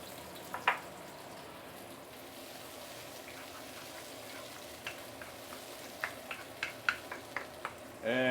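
Minced tomato sautéing on lowered heat in a pan for curry pomfret fish, a quiet, steady sizzle broken by a run of sharp utensil clacks and scrapes toward the end.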